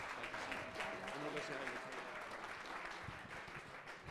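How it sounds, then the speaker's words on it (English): An audience at an annual meeting gives the candidates standing for public office another round of applause, a steady wash of many hands clapping that fades slightly near the end, with faint voices mixed in. "Let's give all of our great candidates another round of applause."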